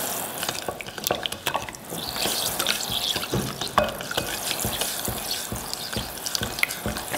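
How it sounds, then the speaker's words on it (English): A spoon stirs sugar into tea being made for kombucha, scraping and clinking against the container in irregular strokes with swishing liquid, close and fairly loud for several seconds. "Dump the sugar in a little bit at a time while you stir it"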